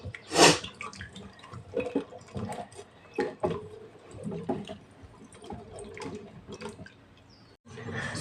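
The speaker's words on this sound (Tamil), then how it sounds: "க்ரீன் சில்லிஸ் போட்டு நல்லா வாஷ் பண்ணிக்கலாம்." Green chillies get washed by hand in water, with scattered splashes and drips that come in short irregular bursts at close range, plus some light handling noise.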